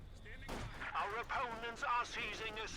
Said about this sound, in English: Mortar firing down. Here we got machine gun there as the constant in the center.